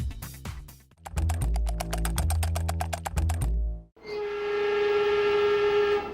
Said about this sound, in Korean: 로스앤젤레스에서 재래식 전차가 사라진 뒤 29년 만에 다시 모습을 드러낸 전철 메트로 블루라인은